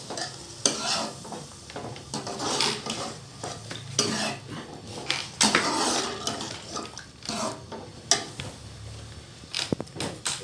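Liver with yogurt stirred and fried in a pot: busy, close scraping and clinking of a spoon against metal over a steady sizzle, with irregular louder knocks throughout.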